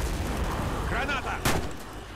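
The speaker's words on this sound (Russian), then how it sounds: "Граната!" Explosions and gunfire in the Warface shooter game, a sharp blast cracking out amid rumbling fire, with voices calling out in the background.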